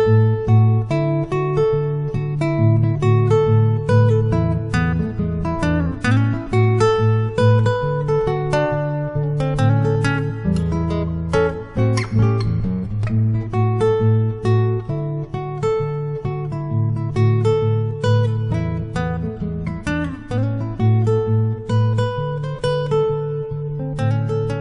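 A recorded guitar plays back with a room-like reverb effect, strummed chords and picked notes ringing out loudly and continuously, with no voices.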